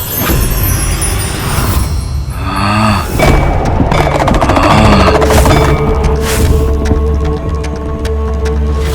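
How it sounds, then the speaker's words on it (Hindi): A loud, rumbling boom with heavy low-end crackle, followed by sustained roaring and debris-like rattling, dense and close throughout. "ये कैसा विस्फोट था?"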